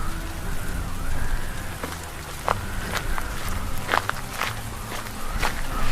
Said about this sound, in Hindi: तेज बारिश और सर्द हवाओं के बीच